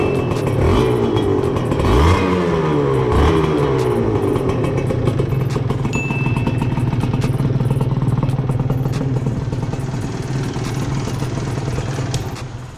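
A Honda NSR 150 SP two-stroke motorcycle with an aftermarket exhaust pipe revs close by, its engine rising and falling in sweeping pitch, then settling into a steady, loud, buzzing idle with rattling mechanical clatter.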